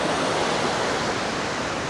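Ocean waves on Da Nang beach on a choppy day, a steady broad wash of surf rushing without pause, fairly loud and unbroken, with no voices.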